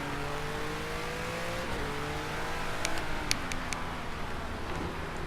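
A BMW Z4 race car engine in the rain in a racing video game, droning steadily at close range with slowly gliding pitch, a few sharp clicks partway through, and no talking.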